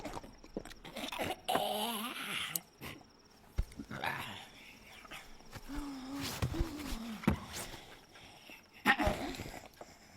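A dog whimpering and yelping at night, short whines and brief sharp cries scattered across a quiet background with crickets chirping and occasional footsteps or rustling.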